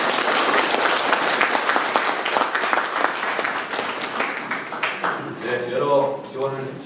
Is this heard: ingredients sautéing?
no